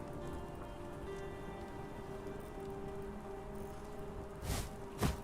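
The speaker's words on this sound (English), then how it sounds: "Well, listen, that rain" Rain falls in the open-world survival crafting game Hytale, a soft, steady patter of drops under a low tonal hum, with two brief louder scrapes or thumps near the end and no talk.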